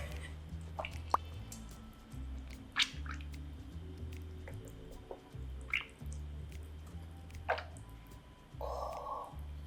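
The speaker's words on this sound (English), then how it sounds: "I want to crush them just a little bit, and a potato masher is just a great tool for that" Whole tomatoes crushed with a potato masher, giving scattered soft, wet squishes and drip-like pops at moderate distance over a low, steady background hum, with no talking.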